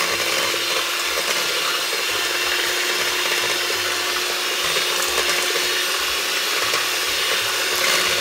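An electric mixer whirs steadily while blending gingerbread cake batter, a loud continuous buzzing drone with slight scraping fluctuations and no talking throughout.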